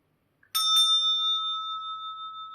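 A single small bell, its top come unscrewed, is struck twice in quick succession and rings on with a clear, pure sustained tone that slowly fades in an otherwise quiet room.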